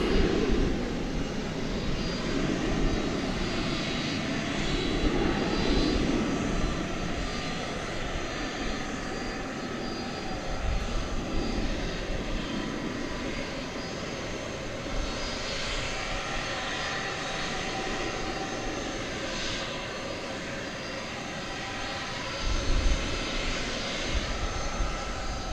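An American Airlines heavy jet arriving from Dublin crosses runway 18 left at DFW Airport at night, its engines making a steady, loud roar that holds throughout with slight swells.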